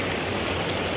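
Creek water rushing at a trail crossing in the Smoky Mountains, a dense, steady broadband wash close by, with no pauses and no voices.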